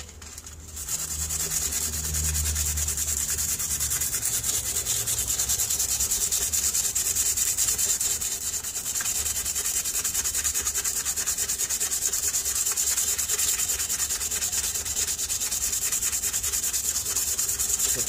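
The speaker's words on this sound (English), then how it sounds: "I'm gonna continue to sand off this paint" Steady, continuous abrasive sanding as paint is rubbed off the steel head of a Cold Steel Trail Hawk tomahawk, close and loud, with an even scratchy hiss that runs without pause and no talking.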